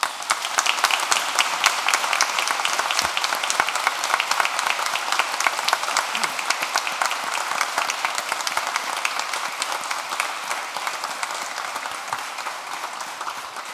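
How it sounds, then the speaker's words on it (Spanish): Sustained audience applause at a swearing-in ceremony for new lawyers before the Supreme Court, a dense, steady wash of many hands clapping that holds for about fourteen seconds and tapers slightly toward the end. "Aplaudamos este logro."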